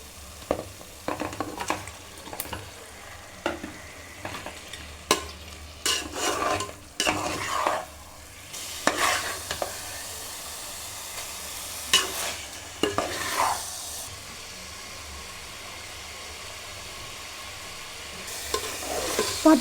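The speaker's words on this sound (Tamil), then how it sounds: "இப்போ சிக்கனும் அந்த மசாலும் நல்லா வதங்கி வரணும்." Half a kilo of chicken sautés with biryani masala in a pan, steady sizzling broken by repeated scraping stir strokes of a spoon against the metal, close and without talking.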